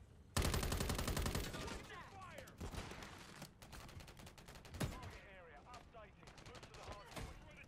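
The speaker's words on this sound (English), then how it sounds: "I want to try the battle rifle." A battle rifle fires in Call of Duty: Modern Warfare III, opening with a sharp rapid burst. Scattered, quieter shots and game effects follow, with a voice present at times.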